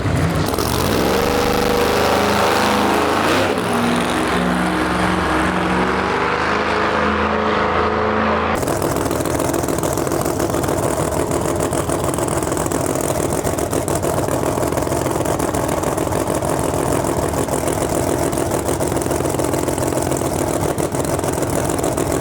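A drag race car at a Lights Out 16 eliminations meet sputters and labors while it is being restarted, with uneven engine tones giving way to a loud, steady roar of track noise.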